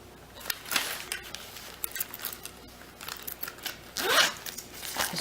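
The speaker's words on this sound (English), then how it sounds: "Zipper moves nice and freely." A small bag's zipper is slid open and closed in short, crisp raspy strokes, close up and fairly quiet, with a few light handling rustles between pulls and no talk.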